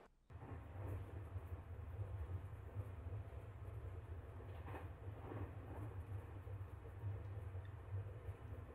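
A train rolls along steadily in the video game Omori, a continuous low rumble with a rhythmic clatter that holds at an even, fairly loud level throughout, with no voices.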